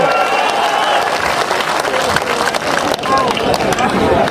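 Rally crowd clapping and cheering for Navjot Singh Siddhu at a political speech, a dense, steady roar of applause with voices mixed in throughout.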